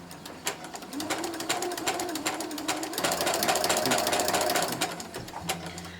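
A sewing machine fitted with a walking foot chain-stitches small quilt pieces for a pumpkin table runner, a close, steady rapid clatter with brief pauses and a short reverse.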